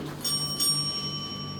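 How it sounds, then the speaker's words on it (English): A single ring of a small hand bell marking a debate speaker's time limit, a bright metallic tone that sustains and fades over steady background noise in a room. "After the speaker has spoken for 4 minutes, the bell will ring like this."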